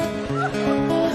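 A small dog yips, barks and whimpers in quick, repeated bursts, fairly close and continuous, with a faint voice mixed in underneath.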